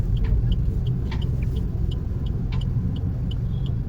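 Road traffic on a crowded street at night, a dense continuous engine rumble of passing vehicles with faint scattered clicks and noises on top, steady and fairly loud, no talking.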